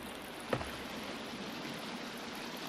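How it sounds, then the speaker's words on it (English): Waterfall ambience in the game The Forest, a steady broadband rush of falling water with a faint brief knock near the start, continuous and fairly quiet with no talk. "You guys know how I like me those waterfall sound effects"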